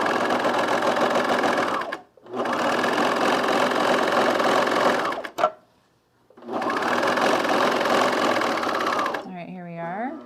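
A serger stitches a seam on a fleece pullover in three loud, steady bursts of fast whirring, separated by short pauses, ending with a brief quieter stretch of rattling.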